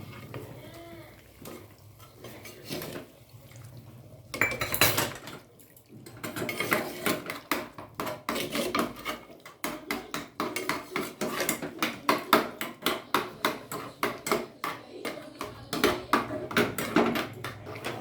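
Meat and chopped potatoes stirred in a metal cooking pot, a quieter start giving way to a long run of rapid, rhythmic clanks and scrapes of a spoon against the pot, close and fairly loud.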